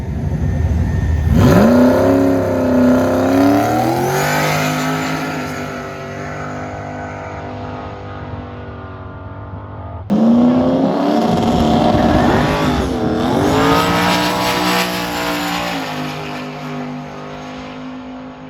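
A turbocharged Ford El Toro accelerates hard twice in succession, its engine note sweeping up through the gears with loud, rising roars. A brief pause separates the first pull from the second.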